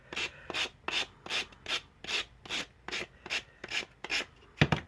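A sanding block rubs napkin decoupage off the edge of a seashell in about eleven even, rhythmic back-and-forth strokes, close and fairly quiet, with a slightly harder scrape at the end.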